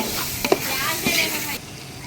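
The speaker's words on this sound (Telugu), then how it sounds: "అల్లం వెల్లుల్లి పేస్ట్ ఇంత హాఫ్ కేజీ మొత్తం ఫ్రై చేయాలి" Half a kilo of ginger garlic paste fries in a pan for a large batch of chicken fry, giving a steady close sizzle with a few brief scraping stirs.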